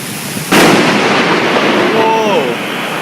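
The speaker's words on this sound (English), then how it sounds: "we're probably stuck in one of the worst thunderstorms we have seen in our lives" A sudden loud boom of thunder bursts in at about half a second during a violent thunderstorm with hail and strong wind in Kuala Lumpur, then rumbles on steadily for the rest of the moment as a voice exclaims over it.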